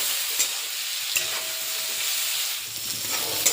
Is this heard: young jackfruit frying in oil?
yes